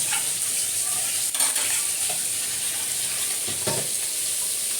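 Koi fish frying in a pan, a continuous hissing sizzle with occasional stirring knocks, steady and fairly loud with no talk.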